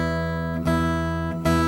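Steel-string guitar with the 1st and 6th strings squeezed and no chord fretted, ringing sustained notes that are re-struck twice, each attack followed by a long, even decay, close and clear with no voices.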